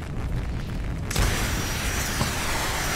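In Call of Duty: Black Ops, a test rocket launch's deep rumbling roar suddenly surges into a broad, loud blast after a second, then holds as a sustained thundering rush.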